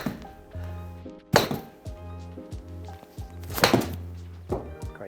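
Golf club striking a ball during a TaylorMade simulator fitting indoors: two sharp, loud impacts a couple of seconds apart, set against low tonal background hum and fainter knocks.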